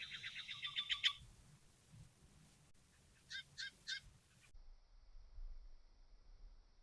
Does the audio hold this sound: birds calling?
yes